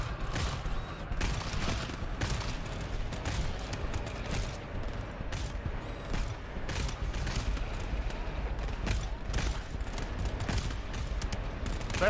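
Gunfire from the co-op shooter GTFO as a team fights off a horde: rapid, close bursts of automatic shots repeat throughout, with brief gaps between volleys.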